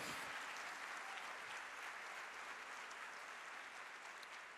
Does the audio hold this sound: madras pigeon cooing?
no